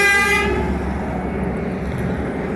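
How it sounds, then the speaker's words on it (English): A single loud horn blast sounds briefly at the start, then cuts off into steady low traffic rumble. "I think this truck just honked because he needed to honk."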